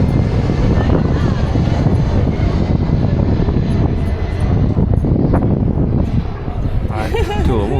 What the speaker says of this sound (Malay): Punya kapal terbang atas kepala je sini.